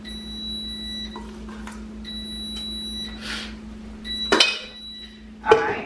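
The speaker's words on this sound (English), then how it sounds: "it's been 10 minutes, so the thing is beeping" An oven timer beeps in steady repeated tones while a pumpkin cake bakes, the beeps running for several seconds over a low appliance hum, then breaking off into a few sharp clatters and handling noises nearby.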